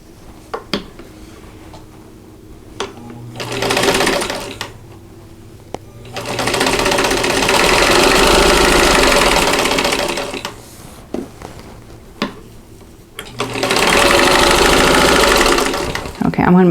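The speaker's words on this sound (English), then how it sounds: "I'm going to sew from the center top to the bottom right hand corner of that square." Sewing machine stitching a quilt block square from the center top to the bottom corner, heard as several loud bursts of whirring stitching separated by pauses, with a person talking in between the runs.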